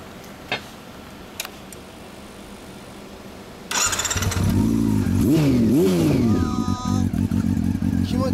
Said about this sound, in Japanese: エンジン音かけてくれる？